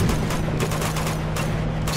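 Gunfire from the video game Uncharted 2: a dense, continuous rattle of rapid shots at steady loudness, filling the whole stretch without speech.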